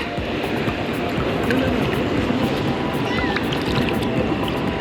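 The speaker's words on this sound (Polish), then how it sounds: "Ale fala idzie, trzeba będzie skakać" Ocean surf breaks steadily on a crowded beach at Tayrona National Park, Colombia, a continuous wash of churning water holding an even loudness throughout, with a faint scatter of distant activity on top.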